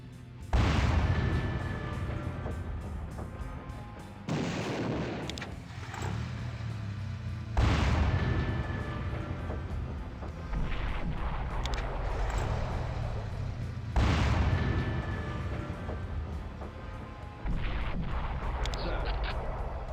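Basilisk artillery fires in the game Warhammer 40,000 Final Liberation, with about five heavy, booming shots spaced a few seconds apart, each leaving a rumbling tail over continuous battlefield background noise.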